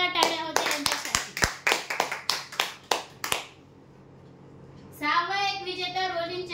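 Audience applause for a prize draw winner, a run of sharp, distinct claps lasting about three seconds, then a short quiet gap before a voice begins speaking.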